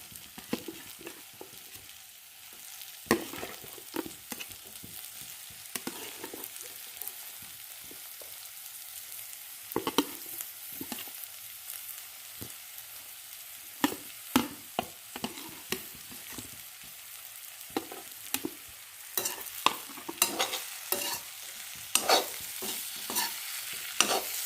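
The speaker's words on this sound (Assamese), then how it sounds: "বিলাহী পেষ্ট অলপ টাইম ভাজি কৰি থাকিম।" Tomato paste and spices frying in a pan for a rohu fish and cauliflower curry, with a steady sizzle broken by frequent sharp scraping strokes of a spoon stirring, close and fairly loud, no talk.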